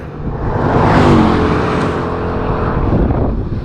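A 1,500 horsepower Bugatti Chiron Pur Sport on a canyon road gives a loud, close engine roar that swells and holds steady for a few seconds, with no talking.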